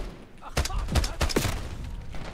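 Rapid bursts of gunfire in the video game Black Ops 6, several sharp loud volleys clustered together over a low game backdrop.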